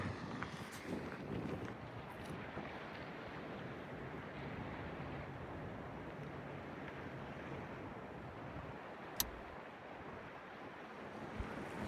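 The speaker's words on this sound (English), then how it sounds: "I'm trying to block the wind." Wind blows steadily over a rocky seashore, a constant soft rush mixed with distant surf, with one brief sharp tick near the end and no speech.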